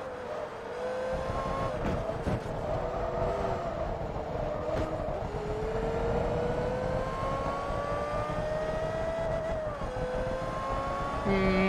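A steady, high-revving race car engine whine in Forza Motorsport 3 runs throughout, its pitch sliding up and down with gear changes, loud and close with no voices.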